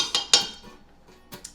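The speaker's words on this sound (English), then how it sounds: "The lime juice, the oil, the spices. We're gonna mix this together." A utensil clinks sharply against a dish a few times while lime juice, oil and spices are stirred together, bright close taps separated by quiet scraping.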